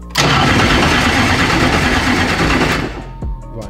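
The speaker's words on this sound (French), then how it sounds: "le démarreur tourne" A car's starter motor cranks loudly and steadily for about two and a half seconds up close, then cuts off and fades without the engine catching.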